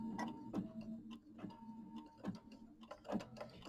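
Embroidery machine stitching a quilt block, a steady mechanical hum broken by repeated sharp ticks and clicks at an uneven rhythm, close and fairly quiet.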